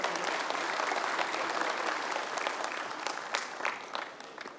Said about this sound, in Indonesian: tepuk tangan untuk Puan kita.